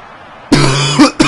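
A single harsh cough bursts out of near silence, followed by a second shorter cough, close and loud, during a FIFA 13 cup match session.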